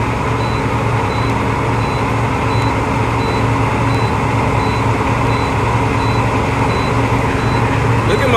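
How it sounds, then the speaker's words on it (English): A 2020 International truck sounds a low air pressure warning, a faint high repeating beep pulsing at a steady rhythm over the loud, constant rumble of the running engine. "if your air pressure is low, it's gonna be doing that beeping, right?"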